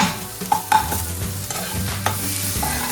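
Chilli and ginger fry in a pan, with a soft continuous sizzle broken by clinks and scrapes of a spoon stirring against the metal, close by with no talking.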